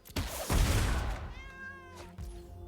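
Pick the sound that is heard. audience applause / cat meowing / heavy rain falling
cat meowing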